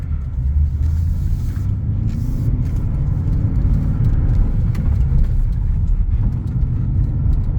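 A 2006 Pontiac GTO with a manual gearbox drives around the block, its engine a loud, steady low rumble heard from inside the car with faint road noise and no voices.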